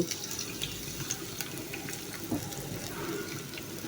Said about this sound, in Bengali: এখন আমি এর মধ্যে সামান্য পরিমাণের পানি অ্যাড করব